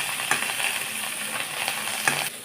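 Coriander and mint leaves being sautéed in a pan for a village-style pudina thogayal, a continuous bright sizzle with a few light clinks of a spatula against the pan.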